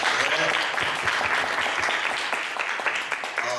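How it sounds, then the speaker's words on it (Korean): Steady applause from the audience at a church Passover panel discussion, many people clapping together for several seconds while a voice speaks over it. "박수 합시다"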